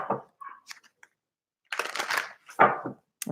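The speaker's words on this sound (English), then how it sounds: "A few more shuffles." Oracle cards being shuffled by hand in a few short bursts of papery riffling and crisp slaps, close up, with brief pauses between them.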